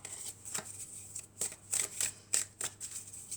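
Tarot cards being shuffled: a series of soft, papery riffles and flicks repeating in irregular bursts, fairly close and quiet, with no talking.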